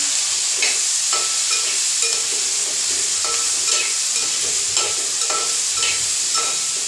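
Onions and aromatics sautéing in a pan for egg kuzhambu before tomatoes go in, giving a loud, continuous close sizzle with repeated scraping strokes of a spatula against the pan, with no voices.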